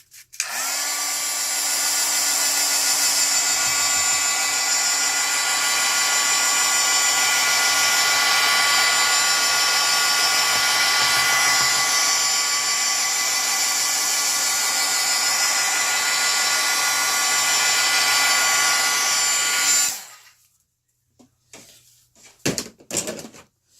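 A hair dryer blows steadily over freshly poured acrylic paint for about twenty seconds, a loud, even whoosh with a constant motor whine, then cuts off abruptly, leaving a few brief handling knocks.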